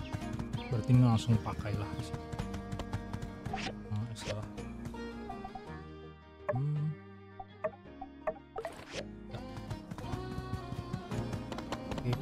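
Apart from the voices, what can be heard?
horse hooves clip-clopping in the video game My Time at Sandrock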